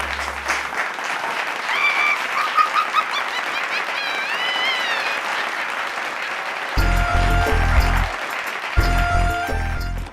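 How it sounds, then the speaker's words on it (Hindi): An audience applauds and cheers in welcome of Vikram and Betaal, a dense clatter of clapping with a few whoops, followed by bursts of loud stage music. "तो आइए तालियों के साथ स्वागत कीजिए विक्रम और बेताल का"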